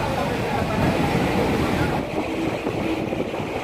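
A train rolls past with a dense, continuous rumble and rushing noise, heard close and loud from a doorway, steady throughout with a slight drop in intensity partway.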